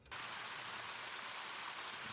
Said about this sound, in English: The first thing I could hear was the sound of rain falling.